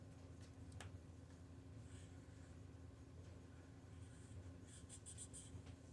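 A crayon draws on paper, producing faint soft scratchy strokes with a few brief sharper scrapes, quiet and close, with no talk.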